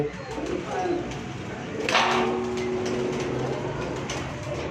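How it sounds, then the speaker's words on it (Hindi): White pearl-marked pigeons on a rooftop loft give soft cooing calls amid outdoor background noise, with a brief sharp flutter or clatter in the middle and a faint steady tone, moderately close. "वाइट कबूतर है मोतियां वाला जनाब"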